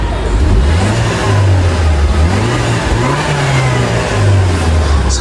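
A car's 1.6-litre turbocharged engine revved up close, climbing and falling in several sustained pulls, steady and fairly loud with no talk over it.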